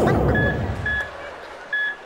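A phone beeps in short, evenly spaced electronic tones, three clear beeps following a brief burst of voice at the start.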